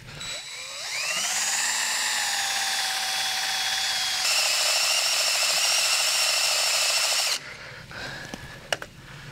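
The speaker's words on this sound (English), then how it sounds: "Let's drill into this piece of iron and see how it drills." A power drill bores into a piece of grey cast iron, spinning up with a rising whine into a steady, loud grinding drone for several seconds before cutting off abruptly, followed by faint clinks.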